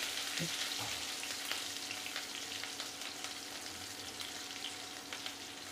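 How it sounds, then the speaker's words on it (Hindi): Finely chopped ginger and two green chillies fry in oil with cumin and mustard seeds, making a soft, continuous sizzle with faint crackles and light stirring. A couple of dull knocks come early on, with no talking. "दो हरी मिर्च ऐड कर देंगे इसे भी एक मिनट फ्राई कर लेंगे"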